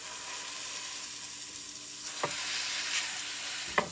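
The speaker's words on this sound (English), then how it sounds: "We're going to throw our burger on there, grab us a nice handful of onions," Burger patty and onions on a hot oiled griddle set to high heat give a steady, close sizzle, with two brief scraping knocks of a spatula standing out, and no voices.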